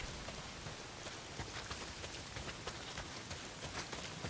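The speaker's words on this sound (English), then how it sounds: "Not if it's pissing down rain." Steady heavy rain pouring down at night in the Days Gone video game, a dense, constant hiss of drops with scattered sharper patters, no voices.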